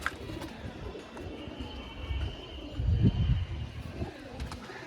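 White homer pigeons coo close by, with one deep rolling coo swelling in the middle over a low hum of other birds and faint background noise.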